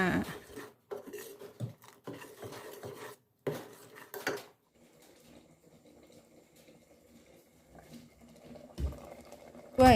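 Bamboo shoot curry with mushrooms being stirred in a pot, a utensil scraping and clanking against the metal in irregular bursts, then a quieter bubbling stretch before more clatter, close and fairly loud.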